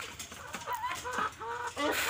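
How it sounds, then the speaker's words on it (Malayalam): Several chickens cluck and call in a short burst at a farm, with brisk, repeated cackling notes close to the microphone over a steady background hiss. "ഇവിടെ കുറച്ച് കോഴികളുണ്ട് കോഴികളെ ആ കാണിച്ചു തരാം"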